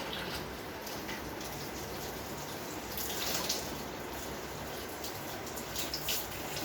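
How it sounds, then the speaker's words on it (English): Tap water runs steadily over fabric samples on a plate, a continuous hissing splash with small spattering bursts, alone without talk. "Just under running water."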